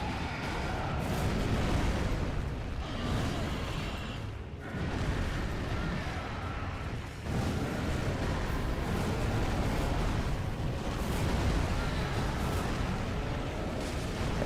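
Explosion attack from the Demon Prince boss fight in Dark Souls 3: a dense, loud, sustained roaring blast that rumbles continuously for the whole stretch, with brief dips and renewed bursts.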